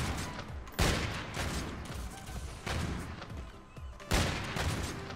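Sniper rifle fire in the Call of Duty Infinite Warfare video game, three sharp loud shots spaced a couple of seconds apart, each followed by a decaying rumble over background game noise.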